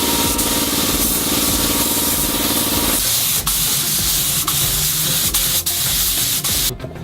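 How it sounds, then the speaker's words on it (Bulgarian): A paint spray gun sprays paint onto a subwoofer box, a loud steady hiss that changes tone partway through and carries on to the end, with no speech. "аз използвам така, защото имам пистолет и така излиза най-евтино"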